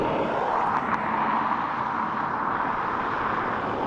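A Ryanair airliner arriving from Alicante at Dublin Airport, a steady broadband engine roar holding at an even, fairly loud level throughout, with no talk over it.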